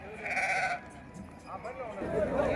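Sheep bleat in short, wavering calls at a sheep market in Gudur, close by and mixed with nearby human voices.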